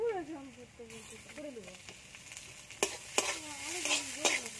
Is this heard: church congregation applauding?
no